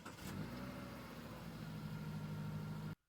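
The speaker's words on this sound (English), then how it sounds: "I just happened to catch like a great car starting sound effect" A car engine turning over and catching, then running at a steady low idle rumble for a few seconds before cutting off sharply to silence; moderately quiet, with no voices.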